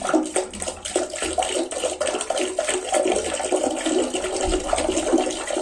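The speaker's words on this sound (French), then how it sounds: "une fois qu'on a bien chassé l'eau, on remplit" A toilet being descaled is flushed and its cistern refills, producing a continuous rushing, gurgling water sound at close range with bubbling surges throughout.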